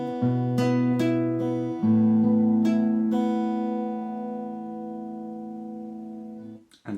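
Guitar in standard tuning plays the first block of a song intro, clean picked notes ringing into sustained chords that slowly fade out, close up with no voice.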